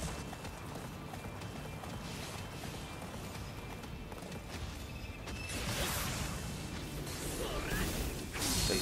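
Horse hooves galloping in the Attack on Titan 2 video game, a rapid clip-clop rhythm under game effects and whooshing, growing busier and louder in the latter half.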